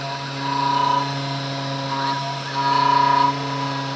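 A small CNC machine drills two holes, each a short whining burst rising over the constant hum of an out-of-balance cooling fan.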